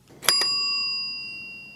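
Pinball machine bell struck twice in quick succession, a bright metallic ring that lingers and fades slowly, close and clear with no talking.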